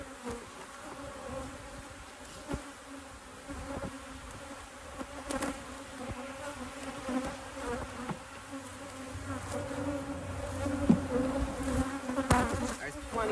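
Honeybees from two brood boxes hum steadily around an opened hive during a walk-away split, a continuous close buzz with individual bees droning past and swelling slightly louder toward the end.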